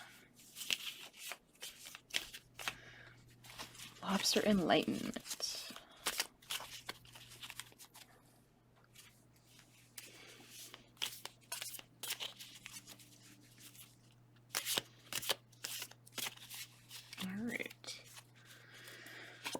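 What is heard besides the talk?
shuffling tarot cards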